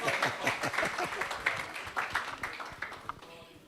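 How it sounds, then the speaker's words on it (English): Conference audience applauding a speaker at an emergency medicine society meeting in Ghana, a dense patter of many hands, moderately loud and steady for several seconds, with voices mixed in underneath. "please, a round of applause once again for Dr. Daniel Osei Kwame."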